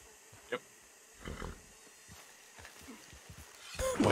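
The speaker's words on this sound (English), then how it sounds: "I can hear growling." A wild animal growls and roars in a Wild West survival video game, with a few low, rumbling growls of varying strength set against quiet background ambience, rising louder at the end.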